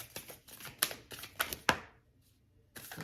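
Tarot cards are drawn from a deck in quick, crisp clicks and flicks, close up and fairly quiet. After a short pause with no voices, the handling resumes.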